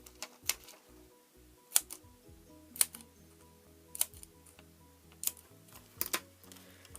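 Scissors snip through 3D foam dots to make thin strips, a series of sharp close crisp cuts about once a second over quiet background, with no voices.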